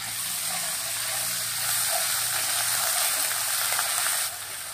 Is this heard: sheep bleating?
no